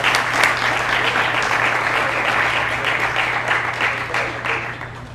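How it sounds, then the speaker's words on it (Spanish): An audience at a science talk claps in a full, sustained burst of applause, with dense overlapping hand claps and a few louder claps near the start, holding steady before easing slightly. "Bueno, otro aplauso."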